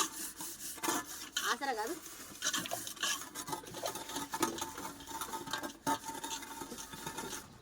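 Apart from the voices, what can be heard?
scrubbing cooking pots and vessels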